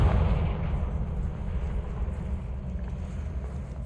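A Confringo spell explodes in the Hogwarts Legacy video game as a deep, rumbling blast that fills the low end and slowly fades over a few seconds, with no talk over it.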